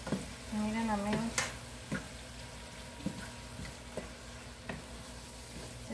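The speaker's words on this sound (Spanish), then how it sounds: "le voy a dejar caer lo que es la flor de isota." Izote flowers drop into a pan of hot oil, giving a steady sizzle and frying hiss throughout, with a few soft utensil taps and a brief stretch of faint background voice early on.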